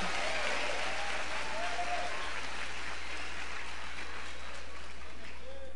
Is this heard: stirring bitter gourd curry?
no